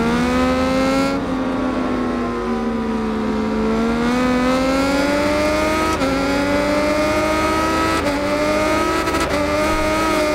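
MV Agusta Rivale motorcycle at Oulton Park in RIDE 5, engine screaming at high revs on an aggressive clutch slip, a loud, close, continuous whine sliding down then climbing, with brief dips at gear changes.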